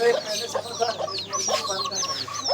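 Several chickens cluck and squawk close by in quick, overlapping bursts, a busy barnyard chatter that continues throughout.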